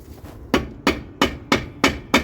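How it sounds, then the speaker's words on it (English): Hammer tapping a brake drum on an old Mercury car, six sharp metallic knocks at an even, steady rhythm, close and fairly loud with short ringing decay. "Get my hammer here. Don't tap it too hard. You don't want to break this drum."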